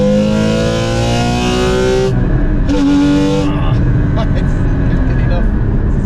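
A Porsche 981 Cayman GT4 engine roars loud and close at full throttle, its pitch climbing hard, dropping at a gear change, then surging again.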